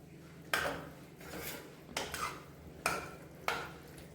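A spoon stirs sweet corn kernels and water in a pressure cooker, making four distinct scraping, clattering strokes against the metal pot at an uneven, unhurried pace, with no other sounds.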